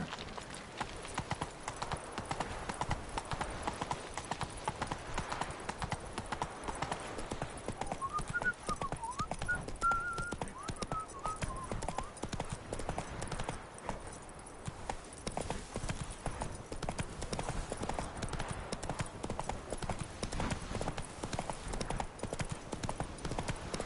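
Roach the horse from the video game Witcher 3 galloping, with a fast, continuous clip-clop of hooves running steadily through the whole stretch over a dense game soundscape, moderately loud and unbroken.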